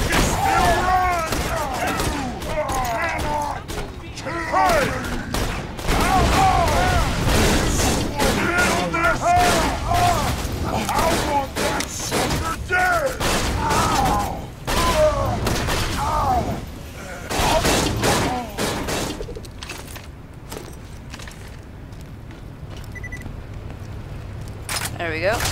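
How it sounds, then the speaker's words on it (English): Rapid gunfire crackles in Borderlands 2 during a firefight against bandits, dense bursts of shots and booms layered under constant speech, easing off near the end. "Can't hear the guy talk over all the shooting."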